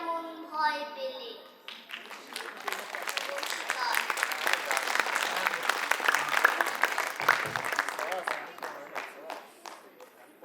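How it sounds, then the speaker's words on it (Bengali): Audience claps loudly for a child's Bengali poetry recitation at a New Year cultural programme; a voice is heard briefly before the clapping swells into steady, close applause lasting several seconds. "অস্মিকের জন্য একটা জোরে হাততালি।"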